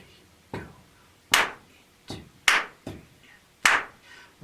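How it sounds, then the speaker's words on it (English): Hands tap out a quarter-note pulse in a steady 4/4 count: about seven sharp, dry slaps, close and fairly loud, with quiet gaps between and no talking. "I'm tapping the quarter note."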